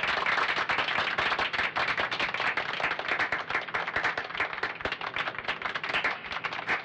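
Clapping in a scene from a Hindi-dubbed action film: rapid, dense hand claps run steadily throughout at moderate loudness, with no talking.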